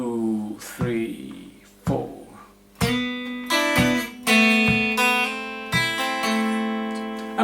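An electric guitar plays the second bar of a song, with arpeggiated notes and hammer-ons building into ringing chords, fairly loud and close with brief pauses between phrases.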